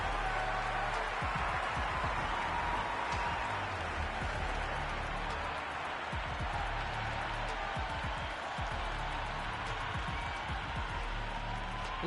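Steady roar of a stadium crowd applauding and cheering at a Big Bash League cricket match between Melbourne Stars and Melbourne Thunder in the Cricket 26 video game, a dense continuous wash of clapping with no pauses.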